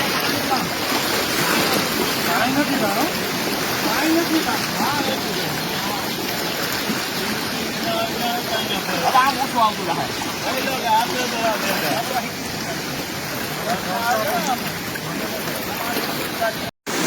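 A constant loud roar of the Ojat river's floodwater rushing through a breached bank into farmland pours through without pause, with faint voices mixed into the torrent.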